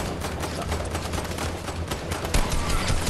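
Continuous rapid gunfire from a gun in the video game Fortnite, fired against IO guards as sustained, dense automatic bursts at close range with a slightly heavier shot near the end, with no voices.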